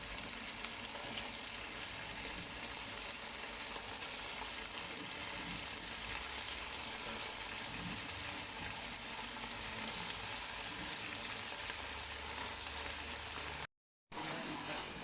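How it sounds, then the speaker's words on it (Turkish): Washed cauliflower fries in a tomato paste and minced meat mixture, a steady, close, hissing sizzle that runs on evenly, with a brief dropout near the end. "yıkayıp eklediğimiz karnabaharları bu şekilde harcımızla biraz kavuracağız"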